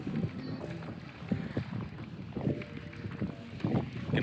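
Wind buffets the microphone while fishing from a kayak on open water, a steady low rumble with gusty swells, joined by light knocks and splashes from the boat.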